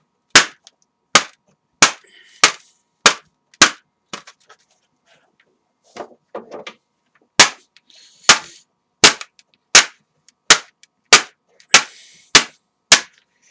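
Old AOL disk being smashed, a series of sharp, loud, evenly spaced impacts about every half second, with a brief pause of scraping and rattling midway before the blows resume, close and dry.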